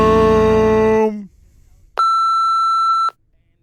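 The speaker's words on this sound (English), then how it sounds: "Please leave a message and a beep." An answering machine beeps after a spoken voicemail greeting: a single steady electronic tone, loud and close, holding about a second after the voice ends.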